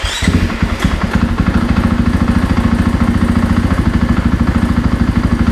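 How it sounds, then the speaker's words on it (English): A KTM-style FE 501s dirt bike engine cranks and fires at the start, then settles into a loud, close, rapid even thumping idle that runs steadily to the end. "key on, start the bike"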